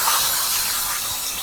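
A top-loading washing machine starts up with a steady, loud hissing rush of water filling the drum, continuous and even from start to finish.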